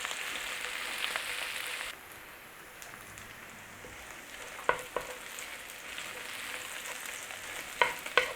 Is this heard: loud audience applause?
no